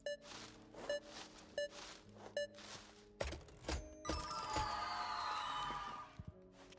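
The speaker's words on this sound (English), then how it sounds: "That phone call gotta wait." Telephone ringing in a video game, a faint repeating electronic ring sounding several times in a steady rhythm, then giving way to thumps and a louder clattering burst of noise.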